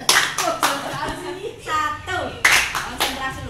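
Scout-style group hand clap at a tired gathering: a few sharp, rhythmic claps cut through, with talk between the bursts.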